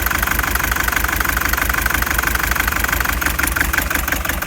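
A car engine idles roughly with an injector unplugged, running on only two cylinders, a loud, steady, close-up lumpy throb with rhythmic knocking and no talk.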